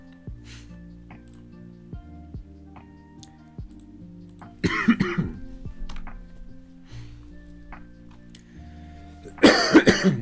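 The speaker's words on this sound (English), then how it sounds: "Sorry for the coughing." Two harsh coughing bursts, a few seconds apart, break through an otherwise quiet room with faint background tones.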